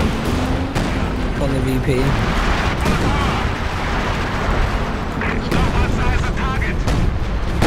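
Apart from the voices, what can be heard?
artillery firing in the video game Company of Heroes 2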